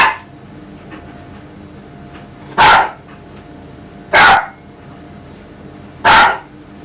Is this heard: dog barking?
yes